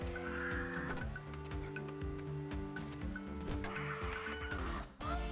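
A bird in the 7 Days to Die video game clucks and caws repeatedly in a rhythmic pattern over layered game music and ambience, ending with an abrupt cut.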